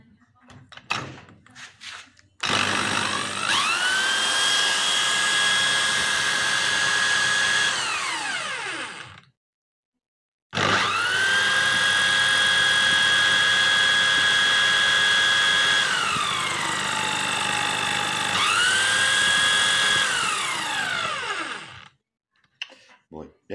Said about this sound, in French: pour faire tourner l'alternateur, je vais utiliser cette perceuse